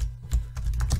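Quick keystrokes on a computer keyboard, a handful of soft clicks in an irregular run, close and fairly quiet, with no talking.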